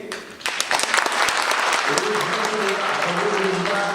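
Audience applause at a National Assembly member's legislative report meeting: a steady, dense wash of clapping that swells after a brief start and holds loud throughout, with a voice faintly audible over it.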